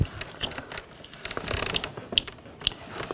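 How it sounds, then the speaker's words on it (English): A vehicle window wiring connector's lever ratchets after its tab is pushed down, giving a close series of small dry clicks and creaks, with a few sharper snaps near the end, with no talk over it. "You push down on the little tab, then you can ratchet the lever."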